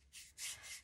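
A paintbrush sweeps excess embossing powder off a surface in three short, soft bristly strokes, very faint and close.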